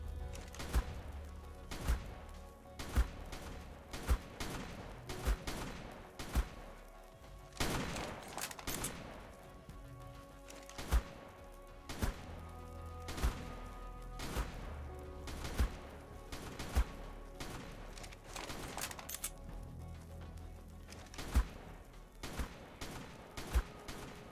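Shotgun blasts in a video game ring out as sharp, heavy reports at a fairly regular pace, with occasional thuds and crashes amid a steady din of battle.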